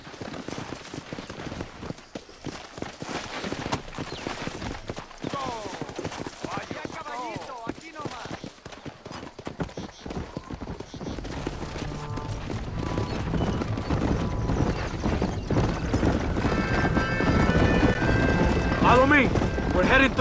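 Rhythmic clip-clop of horse hooves in Red Dead Redemption under game music and voices, growing busier and louder toward the end.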